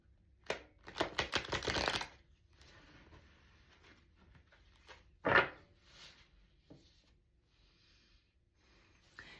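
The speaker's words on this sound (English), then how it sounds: "I'm going to shuffle it one more time" A deck of tarot cards is riffle-shuffled up close in a quiet room: a dense burst of papery flutter, then a single sharp card snap, followed by faint handling rustles.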